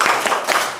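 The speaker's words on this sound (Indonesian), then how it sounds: "Tepuk konsentrasi." A group in a classroom breaks into a quick rhythmic concentration clap, several sharp hand claps packed closely together, loud and near.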